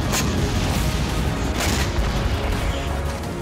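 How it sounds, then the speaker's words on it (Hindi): Dense, loud rumbling barrage of booms and bursts from rocket, drone and missile attacks in the Russia-Ukraine war, running continuously, with a few sharper blasts standing out near the start and middle. "जोर के धमाके हुए"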